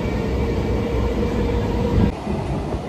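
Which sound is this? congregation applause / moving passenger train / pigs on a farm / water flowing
moving passenger train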